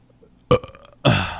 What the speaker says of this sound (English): Burp on the mic.